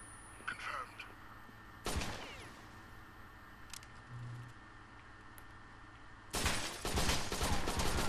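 Pistol gunfire in Rainbow Six Vegas 2 bursts out in scattered sharp shots, one near two seconds and a dense rapid volley toward the end, with quieter game noise between.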